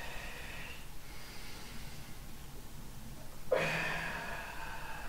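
During a qigong breathing exercise, a single breath is pushed out sharply near the end: a close, breathy whoosh that starts abruptly and fades slowly over quiet room hiss.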